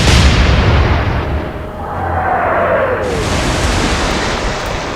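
Warship guns fire high explosive shells in the Atlantic Fleet naval game: a heavy, booming roar opens loud, then settles into a long rumbling wash with a whistling streak of an incoming shell.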